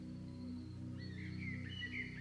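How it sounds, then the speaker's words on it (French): Colorful birds singing, with bright high chirps and whistled notes rising in the second half over a steady, sustained low musical backdrop. "Ils sifflent joyeusement."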